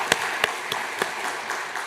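A church congregation claps during a Sunday worship service, with several sharp, separate claps spaced irregularly over a steady murmuring room background.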